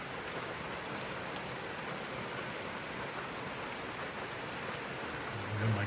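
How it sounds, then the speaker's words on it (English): Steady rain falls outdoors along the Appalachian Trail, a dense even hiss of drops on surfaces that holds unbroken and fairly loud throughout, with no voices. "seems as though the clouds followed the rain in here"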